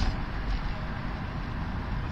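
Road traffic passes along the Satara-Mumbai highway near Pune, heard as a steady low vehicle roar and hum at moderate distance with no distinct events.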